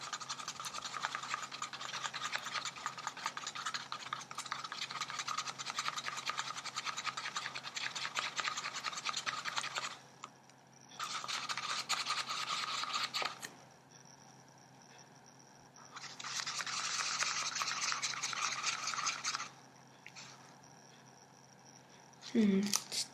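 Blue pigment is mixed into resin for geode coasters, heard as long stretches of fast, close scraping and stirring against a cup, stopping and starting several times with short quiet gaps.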